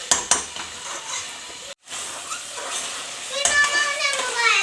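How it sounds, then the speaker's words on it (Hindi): Beef keema fries in about a cup of oil in a pan, giving a soft sizzle broken by sharp clanks and scrapes of a stirring utensil. A voice talks over the cooking near the end. "ये देख सकते हैं हमारा जो कीमा है वो अच्छे तरीके से भुन रहा है"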